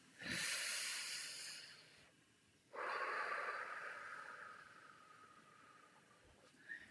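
A person draws in a deep, airy breath, then after a short pause lets out a long, hissing exhale, close and quiet with no talking.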